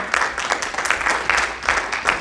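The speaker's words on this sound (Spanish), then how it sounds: "Dale un fuerte aplauso para el Señor." A church congregation applauding during a worship service, with rhythmic unified clapping in bursts roughly every half second, close and fairly loud.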